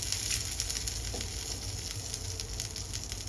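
Steady crackling sizzle of mackerel frying in hot oil in a pan, continuous and fairly close, with a low rumbling hum underneath.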